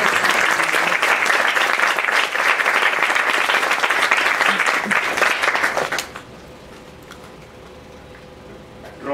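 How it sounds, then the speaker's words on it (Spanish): An audience applauds at an event about handcrafted embroidery, with steady, dense clapping for about six seconds that stops abruptly. Quiet room tone follows. "yo quisiera pedirles un aplauso, por favor, para Miguel Ángel Sosme"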